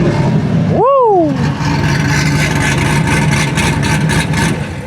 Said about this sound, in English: Bro, did you rev it from the steering wheel?